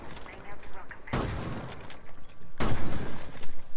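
Rainbow Six Siege gunfire lands as two loud, sharp broadband bursts about a second and a half apart, with ongoing game noise and voices underneath.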